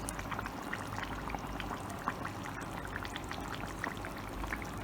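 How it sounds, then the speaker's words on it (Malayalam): Coconut oil is poured into a simmering fish head curry, a steady soft liquid pour and sizzle, close and continuous, without speech. "നമ്മുടെ വെളിച്ചെണ്ണ കുറച്ച് ഒഴിച്ചു കൊടുക്കാം"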